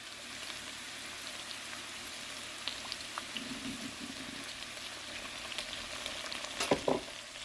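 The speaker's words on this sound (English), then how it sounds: "In terms of how long you saute your veggies, it's up to you." Vegetables with black peppers sauté in a hot pan, a steady close sizzle and frying hiss with occasional stirring clatter, and a sharper burst of stirring near the end.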